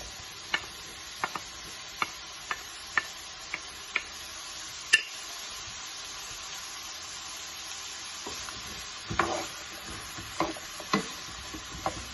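Bell pepper and onion stir-fried in a pan, a quiet steady sizzle beneath sharp intermittent ticks and clinks of a utensil against the pan, with a few louder scraping stirs near the end.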